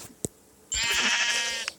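A sheep bleats once, a sustained wavering bleat lasting about a second, preceded and followed by short clicks.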